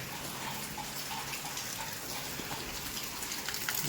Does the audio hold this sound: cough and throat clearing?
no